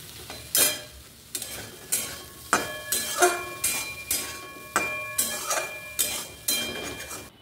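Vegetables sizzle in a pan with Maggi masala while a utensil scrapes and stirs them, the clatters arriving in regular close strokes about every half second over the steady frying hiss.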